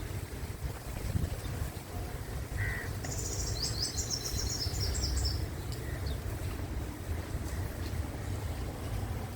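Strong storm wind blows steadily through trees during the Ajman flood, a continuous roaring rush, with a burst of bird chirps partway through.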